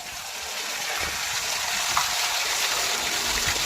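Steady broadband rush of water gushing from the outlet of a 3 HP solar-powered AC water pump, continuous and fairly loud from start to finish with no speech.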